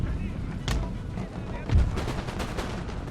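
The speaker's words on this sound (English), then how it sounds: "I want to put another volley onto the cannons here." Musket volley fire in Empire: Total War, a Napoleonic-era strategy game, with several sharp crackling gun bursts and booms over a continuous battlefield din.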